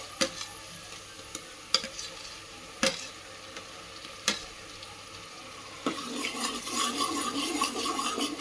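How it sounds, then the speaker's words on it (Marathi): Freshly ground garam masala is stirred into hot oil for a mutton paya curry: a few sharp spoon scrapes and clicks on the pan at first, then a rising sizzle of frying spices near the end. "मस्त ह्याला तेल फुटेपर्यंत मिक्स होऊ द्यायचं आणि त्याला शिजू द्यायचं।"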